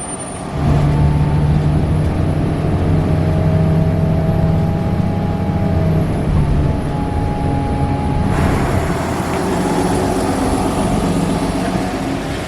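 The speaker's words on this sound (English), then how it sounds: "that bus right there that's making a left turn right now" A bus turning left at a street intersection gives a steady, loud, close engine drone with a rising whine, continuing without pause and with no voices.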